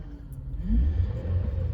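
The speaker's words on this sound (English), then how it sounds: "I got throttle now, so I can rev it on up." A GM 3.6 V6 in a Chevrolet Traverse, just repaired with new timing chains, revs up with a low rumbling rise in engine note, steady and close.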